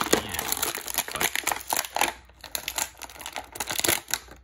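Stiff plastic packaging crinkles and crackles in close, busy bursts as a Star Wars Black Series Scout Trooper action figure is worked free of its tray. No one speaks.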